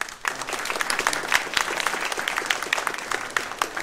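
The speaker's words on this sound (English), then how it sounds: "could I ask one more round of applause" An audience applauds guest speakers at a university human trafficking symposium, steady and fairly loud clapping filling the room from start to finish, with no talk over it.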